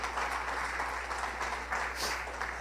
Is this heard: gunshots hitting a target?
no